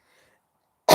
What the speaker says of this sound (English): I'm sorry about my cough. It's still here, guys.